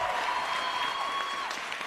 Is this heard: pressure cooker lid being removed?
no